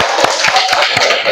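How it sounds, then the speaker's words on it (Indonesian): A school class claps close by in a quick, steady rhythm, with voices mixed in under the clapping. "Oke, boleh tepuk tangan buat kita semua."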